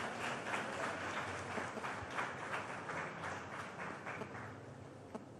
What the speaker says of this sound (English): give applause to yourself for this successfully managing this event and bringing it to success